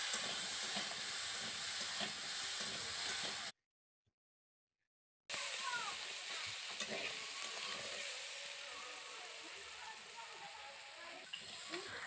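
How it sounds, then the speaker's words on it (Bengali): Cut potato and eggplant fry in hot oil in a village kitchen, giving a steady close sizzle with stirring scrapes that runs throughout. A short silent gap falls partway through. "এবার দিয়ে দেব কেটে রাখা আলু বেগুনটা, ভালো করে একটু ভেজে নেব তেলের মধ্যে"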